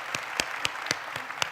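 Audience applause at a talk on the opioid epidemic, with a handful of distinct, fairly close claps standing out over a thinner ongoing patter.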